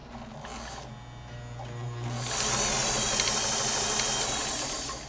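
A sewing machine running a long zigzag stitch, with a steady mechanical whir and rapid needle chatter that builds and holds at a brisk, even pace.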